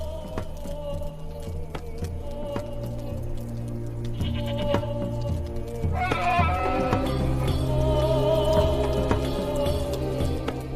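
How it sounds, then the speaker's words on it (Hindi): Goats bleat repeatedly beside a man, several loud wavering calls close by over a low ambient drone, growing busier in the second half. "हारून दो बकरियों के साथ खड़ा है"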